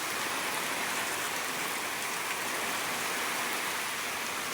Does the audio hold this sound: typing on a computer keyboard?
no